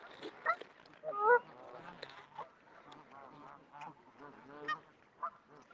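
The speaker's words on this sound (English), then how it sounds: "Say hello to the birds." Geese and ducks on a winter park pond honk and quack in scattered bursts, fairly close, with a louder run of honks near the start.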